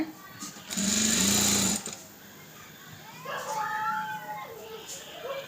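A sewing machine stitches the lining fabric of a blouse in a loud, steady run of about a second, then stops; a voice talks over quieter handling noise afterward.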